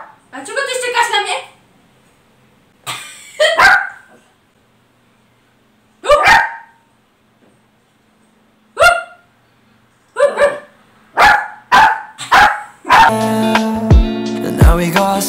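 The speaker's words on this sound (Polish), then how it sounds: "A czego ty szczekasz na mnie?" A dog barks in several short, sharp bursts spread through an indoor room, loud and close, with a person talking between and over the barks.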